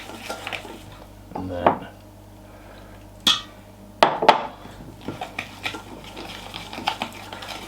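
Pancake batter with milk and egg being stirred in a bowl, with a few sharp clinks of utensil against the bowl and a soft scraping rhythm, while a person talks briefly between the strokes.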